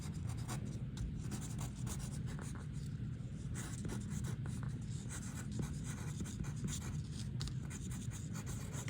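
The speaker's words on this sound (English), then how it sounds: "whichever is the back side of my paper, I'm going to go ahead and write my name" Pen or pencil writing a name on the back of a student's artwork paper, a steady close scratching and rubbing that runs continuously throughout with no talk.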